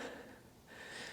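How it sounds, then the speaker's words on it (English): Deep yoga breathing, one big inhale followed by a big exhale, soft airy breath sounds close to the mic, quiet and unaccompanied by speech. "Big inhale. Big exhale."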